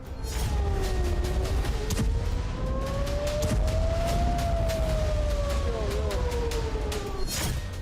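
A wailing air raid siren in Israel rises and falls continuously at steady volume, with a second tone layered underneath and scattered crackles over a constant background roar.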